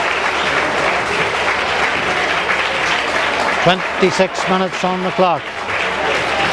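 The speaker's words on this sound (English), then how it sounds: "Gets a great round of applause from the Cushendall supporters." Cushendall supporters at a minor hurling final give a sustained round of applause, a broad crowd roar of clapping, while a commentator talks over it.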